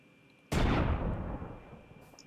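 A single sharp blast as the Hunter's Handgun fires a blaze shot in Minecraft Hexxit, a loud sudden boom that rolls off into a fading rumble over about a second, with no talking.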